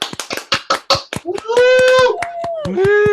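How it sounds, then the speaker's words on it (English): An audience at an improv comedy jam greets the Wittypedia team from Boise, Idaho. Scattered, close hand claps are followed by a loud, sustained whooping cheer, with a second shout rising near the end. "give us a round of applause for Wittypedia from Boise"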